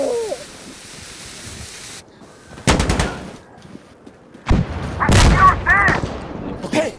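Bursts of gunfire in Insurgency: Sandstorm crack out in quick clusters, loud and close, separated by quieter stretches with faint movement noise.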